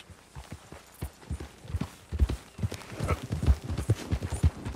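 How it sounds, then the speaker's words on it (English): Horse hooves clip-clopping at a walk in Red Dead Redemption 2, a steady rhythm growing louder and closer, with no talk. "I'd like to adopt this horse of pedigree."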